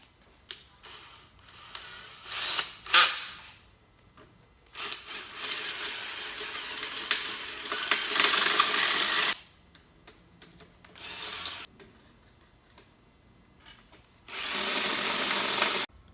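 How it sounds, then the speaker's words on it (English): Rivets on a Porsche Cayenne window regulator are drilled out in several separate bursts of grinding, whirring drill noise, close and moderately loud, with quiet pauses between. "So we're going to drill out the rivets."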